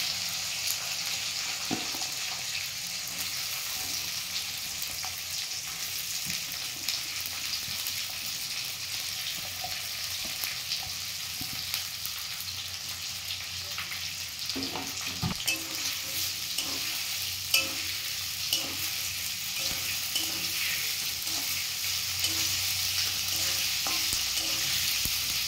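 Onion petals fry in hot oil for a prawn chilli dish, a steady close sizzle broken by scraping stir strokes and occasional clinks, with no talking.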